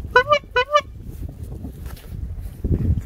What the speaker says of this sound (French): Et si on testait le klaxon ?